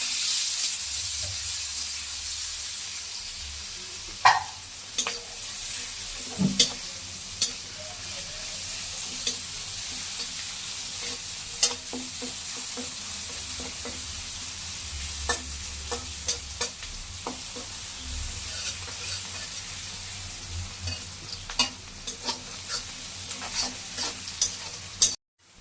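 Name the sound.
chopped onion and garlic frying in fish oil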